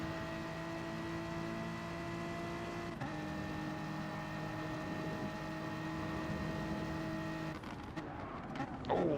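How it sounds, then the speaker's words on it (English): Race cars in Gran Turismo at Dragon Trail Seaside, their engines giving a steady, sustained droning whine with a brief shift midway and a rougher, scraping burst near the end. "Mocking Weeks outbraking Ben Cosgrove, Robuster Hood there, but almost taking him out"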